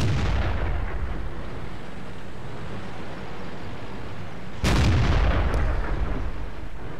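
Tank cannon fire in the World of Tanks video game: a sharp, loud shot lands partway through over a steady rumbling battle ambience, with its decay fading out afterwards.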